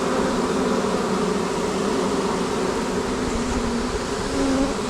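Dense, even hum of honey bees inside a hive being installed from a package, loud and close with no break.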